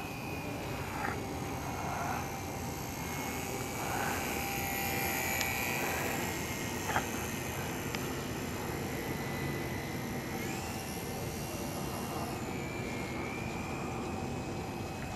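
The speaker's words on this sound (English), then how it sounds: "In the high speed flyby." An aircraft makes a high-speed flyby, a loud sustained engine roar with a rising, sweeping whine that swells as it passes close and then eases off, with no talk over it.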